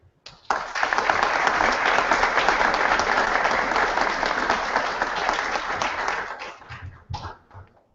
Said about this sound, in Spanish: pido en este momento un caluroso aplauso